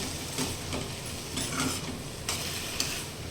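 A spoon stirs onion and moong dal in a sizzling pan, giving steady scraping strokes over a continuous frying hiss, close and alone.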